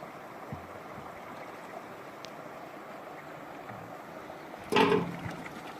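Steady flowing spring water runs continuously, with a short louder splash near the end.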